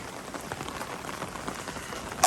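Steady rain falling at night in a Southern California garden, a soft, even hiss of drops on surfaces with a faint rustle near the end.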